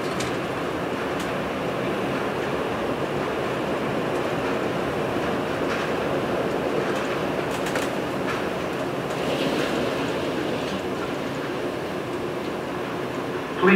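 Steady rumble and rattle of an airport people mover train in motion at Cincinnati/Northern Kentucky Airport, heard from inside the car, with faint clicks and a muffled announcement voice over the hum.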